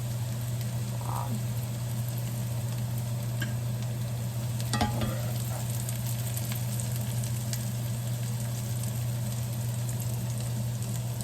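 Bacon sizzling in grease in a pan, a low steady crackle with a few brief clinks of a slotted spoon, heard alone against a constant hum.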